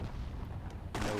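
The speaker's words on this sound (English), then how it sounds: "You see an RPG barrage." An RPG barrage in a WWII-themed Myth II Soulblighter tournament match: low battlefield rumble, then a sudden sharp, broad burst of explosive impact near the end.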